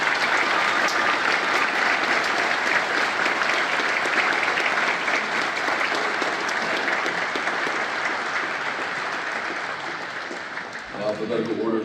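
Applause at an Army officer candidate school graduation ceremony, a loud, dense wave of clapping from a crowd that holds steady for several seconds, then thins and fades as a voice begins speaking near the end.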